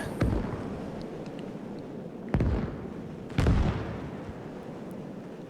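Battlefield explosions and artillery from the World War II game Gates of Hell Ostfront, with three heavy booming blasts spaced a second or more apart over a low rumbling background.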